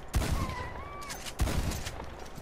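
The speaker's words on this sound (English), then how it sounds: "shot it with shotgun" A shotgun fires in Red Dead Redemption 2, two loud booming blasts about a second apart with rolling echoes, alone with no talk.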